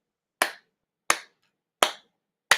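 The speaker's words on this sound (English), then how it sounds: "give her a hand clap" Four separate hand claps spaced evenly about two-thirds of a second apart, crisp and close, with silence between each.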